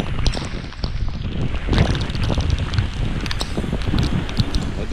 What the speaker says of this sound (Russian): Ой, еще и ветер, черт.